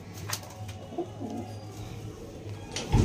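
Pigeons in a breeding loft coo in a low, steady murmur, a constant soft drone with a few faint flutters and knocks and a louder thump at the close.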